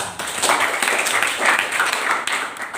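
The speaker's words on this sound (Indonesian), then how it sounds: "Tepuk tangan dulu buat." Students in a school classroom clap their hands together in a brisk, fairly loud round of scattered claps that lasts nearly three seconds without pause.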